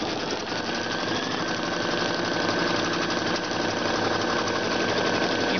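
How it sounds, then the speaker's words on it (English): Sewing machine stitching down a heat-transfer appliqué, a steady close rapid mechanical chatter running continuously without pause. "And then it'll stitch that down."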